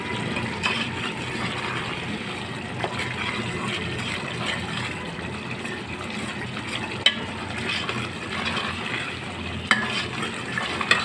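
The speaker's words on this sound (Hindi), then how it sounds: "बस अब इसकी अच्छी तरीके से भुनाई होगी।" Spinach keema with green chillies and garam masala frying in a pan, a steady close sizzle with occasional scrapes and clicks of a spoon stirring, no voices.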